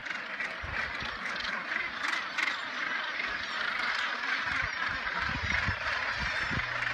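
A gannet rookery on Bird Rock in foggy conditions, with a dense chorus of harsh, overlapping bird calls and squawks over a constant background wash, from a moderate distance.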